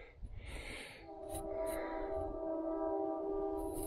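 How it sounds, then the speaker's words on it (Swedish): Train passing near a potato field during harvest, a steady low rumble building up with a sustained horn-like tone, heard from a moderate distance outdoors with some brief hissing bursts. "Ja, nu kommer tåget in i oss här då."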